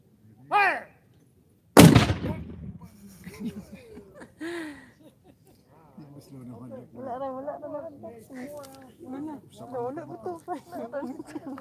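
A Civil War reenactment cannon fires once in a demonstration at Camp Verde, Arizona, a single loud, sharp boom that rings out briefly, followed by people talking and laughing nearby.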